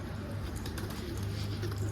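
Soft, low cooing from a bird repeats under a quiet background hiss, faint and close.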